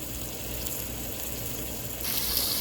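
Pork sizzling steadily in a pan during cooking of sweet Filipino spaghetti, a continuous broadband hiss that grows louder near the end, with no talking.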